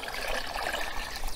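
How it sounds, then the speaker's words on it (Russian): Stock solution is poured into a larger volume of water, a brief close trickling splash that runs continuously for just over a second. "Дальше вот этот маточный раствор вливаем в первоначальный объем жидкости, доводя его до нужной концентрации."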